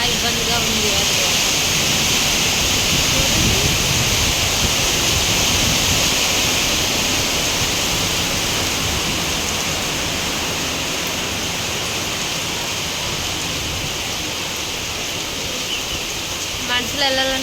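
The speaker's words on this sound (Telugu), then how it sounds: "చాలా వాటర్ వచ్చేసింది కదా, ఒక పక్క వర్షం, ఒక పక్క నిండిపోయింది ఫుల్గా" Rain falls on flooded streets in Rajendranagar while floodwater rushes through them as a dense, continuous roar that stays loud and even from start to finish, with voices faintly in the mix.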